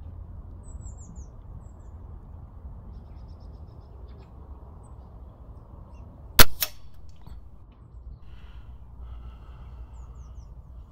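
A single sharp crack of an Air Arms TX200 air rifle shot at a target 100 yards away, brief and distinct against a quiet outdoor background with faint birdsong.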